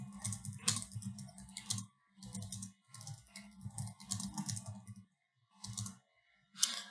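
Steady bursts of typing on a computer keyboard, close and clear, with rapid clicking keystrokes broken by short pauses and a final louder clack; no one talks.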